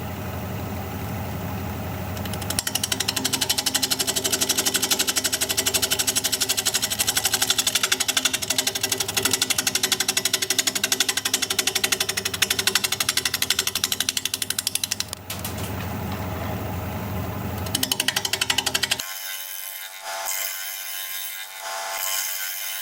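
A wood lathe turns a decayed wood bowl at 700 RPM while a 5/8 inch bowl gouge cuts, giving a loud, steady, rough scraping drone that runs nearly throughout and then changes to a thinner, higher tone near the end.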